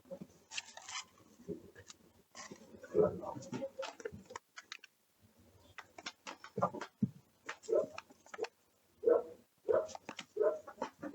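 A neighbour's dog barks repeatedly through an open window, in irregular bursts heard at a distance, mixed with faint bird or chicken sounds and some nearby talking.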